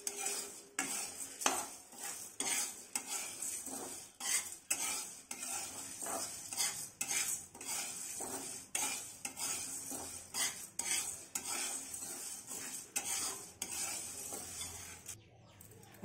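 A tablespoon of cumin seeds frying in a pan while a spoon stirs them, giving quick repeated scraping clinks over a soft sizzle, close and without speech.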